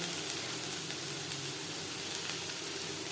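Onions fry in oil with a steady, dense sizzle that holds at an even level throughout, close and continuous with no talk.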